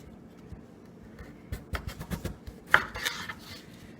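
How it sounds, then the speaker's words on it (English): A knife cuts russet potatoes into rough cubes on a board, starting with faint taps and building to a quick run of crisp, close chops, then a sharper knock and a few scrapes. "take these classic russets here. We're going to get these cut down"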